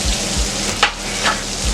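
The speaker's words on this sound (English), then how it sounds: "Hear that sizzle?" Steak sizzling on a hot grill, a loud close crackle of frying fat with small pops and spits over a steady hiss.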